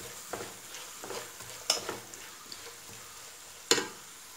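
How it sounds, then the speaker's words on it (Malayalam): Onion and whole green chillies sauté in a pan for Kabali rice, with a steady soft sizzle broken by repeated scraping stir strokes and a sharper clink near the end, close and fairly quiet. "ഇനി ഇത് ഗോൾഡൻ ബ്രൗൺ കളർ ആവുന്നത് വരെ നമുക്ക് വഴറ്റിയെടുക്കാം."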